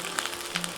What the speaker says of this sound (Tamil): நம்ம எடுத்து வச்சுருந்த இஞ்சி பூண்டு பேஸ்ட் இதில் போட்டு ஃப்ரை பண்ணிக்கலாம்